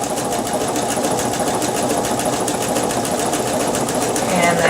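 A sewing machine stitching a decorative stitch pattern, a fast steady mechanical whir and chatter up close, running continuously with a slight rise at the end.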